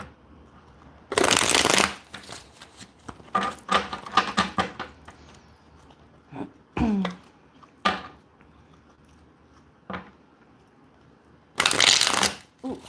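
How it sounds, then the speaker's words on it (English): Tarot cards given a big shuffle, two loud bursts of riffling cards at start and end with softer tapping, sliding and handling sounds between, close and otherwise quiet. "I'm going to give this a big shuffle."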